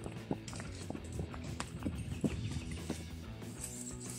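Horse hooves clip-clopping at a walk along a wooded trail in the hills of Cerro Malalcura, a steady uneven rhythm of thuds close by over a low outdoor background, with no talk.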